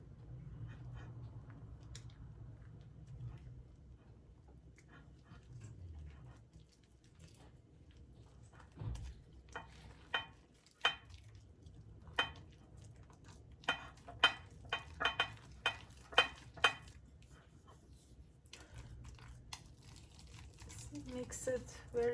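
Einkorn flour dough being mixed by hand, giving soft squishy, sticky kneading sounds with a run of sharper slaps and clicks midway, close and moderately quiet.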